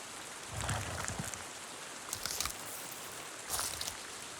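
Rain falls in the video game Avatar: Frontiers of Pandora, a soft continuous hiss with occasional louder patters and splashes, faint and steady with no talk.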